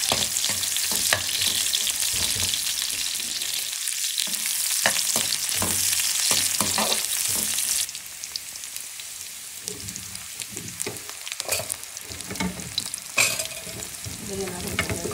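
Onions sizzle and fry in a pan alongside sweet potato, with a dense crackling hiss and repeated scraping stirs up close that ease slightly in loudness partway through.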